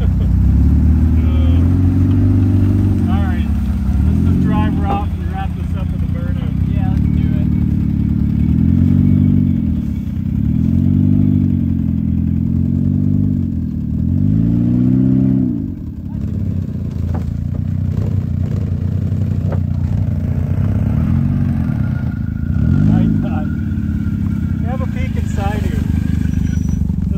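A 2023 Can-Am Outlander 1000 ATV engine revs repeatedly as it drives off after a mudding crash, loud and close with rising and falling pitch, while people talk over it.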